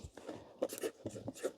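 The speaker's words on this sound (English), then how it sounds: "I'm just going to write on here" Pen writing on a small plastic plant tag for dahlia tubers, a brief series of faint close scratchy strokes.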